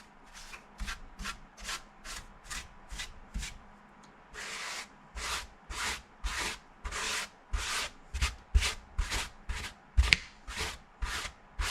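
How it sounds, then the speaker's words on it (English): A paintbrush sweeps residue off a 15-inch DBX subwoofer in quick repeated dry strokes, soft and close. The rhythm is brisk and irregular, pausing briefly before speeding into denser bursts. "we're going to take my trusty dusty paintbrush and just give it another once over here"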